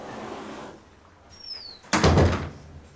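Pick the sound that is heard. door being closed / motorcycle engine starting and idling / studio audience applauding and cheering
door being closed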